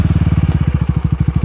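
A KTM Duke 390 motorcycle engine idling or riding close by, a loud steady pulsing beat of evenly spaced exhaust thumps with a faint clattering edge.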